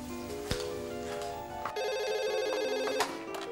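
A landline telephone rings indoors in an evening home scene, with a short bell burst followed by a steady electronic warbling ring repeating, close and clear with a few small knocks.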